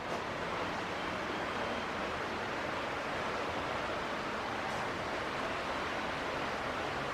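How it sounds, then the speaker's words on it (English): Water runs beneath a wooden covered bridge in rural Kentucky, a steady, even rushing wash that stays constant throughout with no other sounds standing out. "you can actually hear the water running underneath the bridge"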